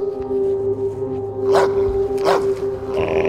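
A dog gives two short, sharp barks at moderate distance over a steady humming background tone.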